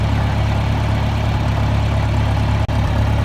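A farm tractor's engine runs steadily at a low, rumbling idle, loud and close, with constant vibration and no speech.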